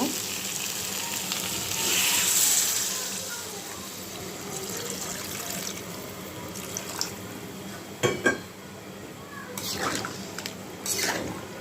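Baim fish curry with small potatoes sizzles in the pan as broth is poured in, a watery rush over steady frying followed by a few sharp stirring knocks.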